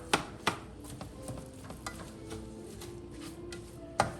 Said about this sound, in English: In the frying pan, I've got the Impossible meat, the Impossible sausage, the onions, the garlic, and some EVOO.